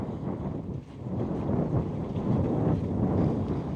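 Strong wind buffets outdoors at a fishing spot, making a continuous low, rumbling roar that swells slightly partway through, with no voices.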